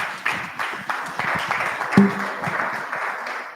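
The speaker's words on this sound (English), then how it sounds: "I think she deserves a better round of applause" Steady applause from a meeting audience at a Zambia Diaspora Chamber of Commerce event after a presentation, dense continuous clapping with a few louder swells, filling the whole stretch without speech.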